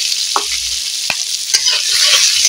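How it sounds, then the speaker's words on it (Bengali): Chopped onions are tipped into a pan of fried spices and ground cinnamon for a fish curry. They sizzle in a bright, steady hiss, with a few sharp clinks of stirring, close and loud. "মশলা ভাজা হয়ে গেছে, এবারে দিয়ে দেব পেঁয়াজের কুচোগুলো।"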